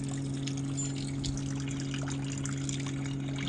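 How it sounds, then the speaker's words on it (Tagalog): Water drains steadily out of a truck's diesel tank in a continuous trickling pour, with a constant low hum beneath it and no pauses. "So drain lang natin to hanggang sa diesel na yung lalabas."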